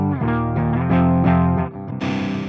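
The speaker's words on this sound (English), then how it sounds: "U530 CM is a twin-channel amp featuring clean and lead channels, selectable via the clean lead switch" Guitar through the Mercuriall U530 CM amp plugin on its lead channel, loud saturated distorted notes and chords ringing close and sustained, with a brighter, harsher chord at the end.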